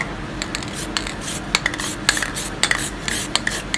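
A spray paint can sprays in short bursts, with sharp hissing pulses and clicks scattered irregularly over a low background, close by, with no voices.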